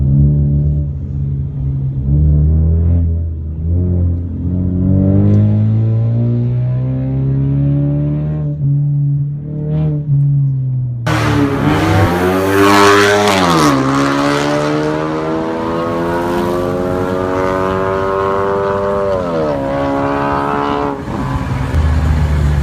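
A 2016 Ford Mustang with a 2.3-liter four-cylinder EcoBoost engine and DRIFT Xaust exhaust drones loudly at idle, then revs rise and fall before a sharp, harsh acceleration roar swells and holds, close and without talk.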